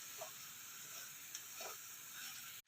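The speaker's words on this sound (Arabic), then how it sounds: "بس هنقلب التوابل بتاعتنا" Spices are stirred with chicken in a hot pan, a faint steady sizzle with a few soft scraping strokes of the spoon, no voices, cutting off abruptly at the end.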